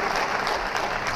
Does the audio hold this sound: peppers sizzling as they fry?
no